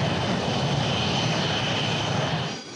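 A military aircraft engine roars loudly and continuously at Khmeimim air base, a broad steady drone with a faint whine on top, tapering off slightly at the end.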